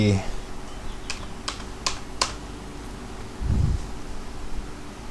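Computer keyboard keys tapped in a few short, separate clicks while working in Photoshop, fairly close, over a low steady hum, followed by a brief low thump.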